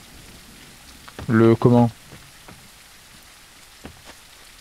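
Steady rain falls in the survival video game No One Survived, a soft continuous patter throughout, with a short burst of speech near the start.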